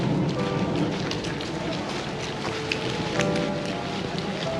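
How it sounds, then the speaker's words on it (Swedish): Rain begins falling outdoors on a geocaching walk near the Eiffel Tower, giving a steady, dense patter of drops with faint wind noise and a few louder nearby taps. No voices. "Hur känns det nu när det börjar regna?"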